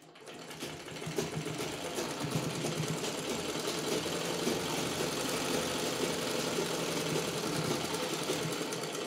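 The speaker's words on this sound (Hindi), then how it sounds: "इस तरीके से अपने को मोड़ना है इसको और फिर सिलाई मारनी है।" Sewing machine stitching a cloth face mask at home, a steady continuous mechanical whir and rapid needle clatter running close and loud throughout with no pauses.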